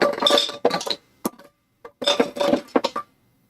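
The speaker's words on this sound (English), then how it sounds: "yes, that is the sound of tobacco jars" Glass tobacco jars clink and knock together inside a drawer in several clustered bursts of rattling contact, close and fairly loud, separated by short pauses.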